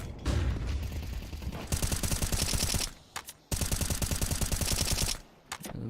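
Rapid gunfire in a Counter-Strike 2 match, loud repeated shots in bursts with brief pauses between volleys, no talking.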